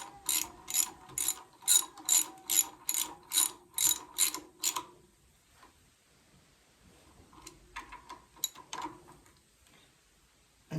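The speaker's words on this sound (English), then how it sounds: "As you tighten it down towards the crank, towards the bottom." A ratcheting crank tightens a clamp down during crown molding work in an old house renovation, giving about ten loud, evenly spaced clicking pulls, then a pause and a fainter, quicker burst of clicks.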